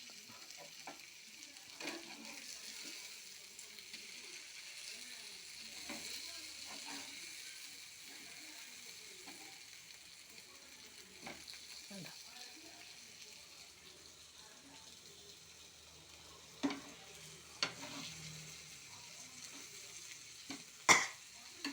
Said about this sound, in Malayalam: അധികം എണ്ണ ഒഴിക്കാതെ മീൻ മൊരിച്ച് വാങ്ങി